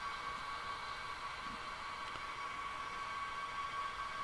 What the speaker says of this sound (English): So here the train just went through a tunnel